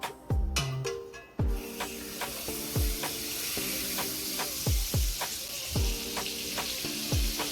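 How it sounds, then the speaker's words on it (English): A generous knob of butter sizzles as it melts in a hot pan, a steady hiss broken by regular soft thumps and scrapes roughly every half second, close and alone with no voices. "I'm gonna add a generous amount of butter to melt."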